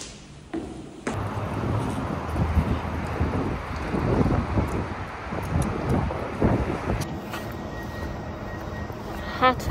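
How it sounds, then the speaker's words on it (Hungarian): Strong gusting wind blows outdoors during heavy wildfire smoke in Canada, a loud, steady roar buffeting the microphone with surging gusts for most of the stretch. "Nagyon durva, olyan szél van"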